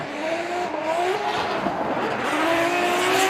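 Formula Drift Japan race cars drifting in tandem, a Lexus IS500 chased by an E92 BMW: loud revving engines with rising pitch and tire squeal, close and continuous without speech.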